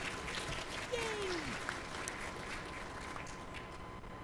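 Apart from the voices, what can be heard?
audience applause at convention panel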